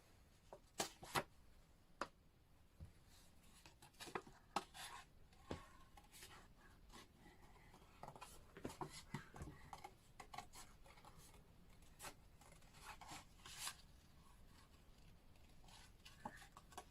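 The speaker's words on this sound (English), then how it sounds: "So I'm just going to cut another bean out here." Scissors cut a runner bean shaped stencil, giving faint, close, irregular snips and paper rustles in a quiet room.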